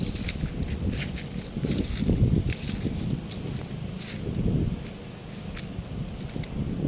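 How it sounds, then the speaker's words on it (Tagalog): Wind blows through Green Meadows park beside a river, with gusty rustling surges that rise and fall, a few sharp crackles of leaves and no clear speech. "Ganda, mahangin dito. Park ng Green Meadows."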